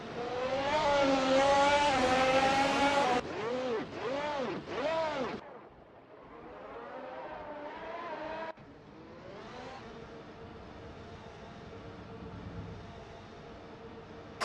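Racing cars in an AI car racing video game, engines revving loudly then sweeping up and down in repeated whines as they pass, later settling into a steadier, quieter drone.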